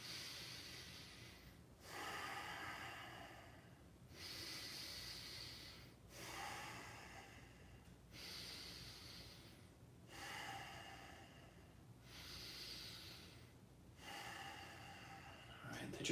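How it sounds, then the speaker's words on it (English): Slow, deep yogic breaths during a yoga flow, eight audible inhales and exhales in a steady rhythm of roughly two seconds each, soft and close with faint background hiss. "Breathe in that depth for 4 breaths."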